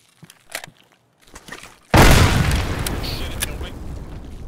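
A video-game grenade detonates suddenly and loud, a heavy boom followed by a long rumbling, crackling decay, after a few seconds of quiet, sparse voices.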